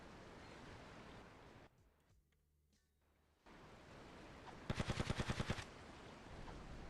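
Gunfire in a video game shooter, a rapid burst of about ten automatic shots cracking over loud continuous game noise, after a brief quieter lull.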